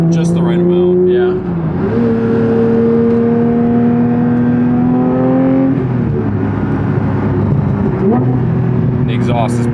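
A Porsche 992 GT3 fitted with a titanium exhaust drives along with a loud, steady engine drone that rises and falls as it shifts through gears, heard from inside the car while people talk over it.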